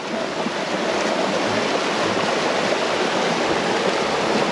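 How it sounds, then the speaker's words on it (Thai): A waterfall in Chiang Mai roars in a loud, steady, broadband rush of falling water that stays close and constant throughout, with no voices heard. "น้ำตก"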